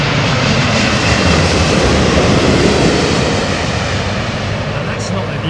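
A steady, broad roar from an airliner at London Heathrow Airport fills the scene, loud and continuous without a break, with voices faintly present beneath the engine noise.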